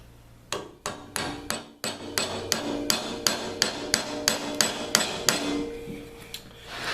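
A forged iron drive hook hammered into wood: about a dozen sharp, evenly spaced hammer blows ringing close and loud, quickening slightly before stopping near the end, with no talk.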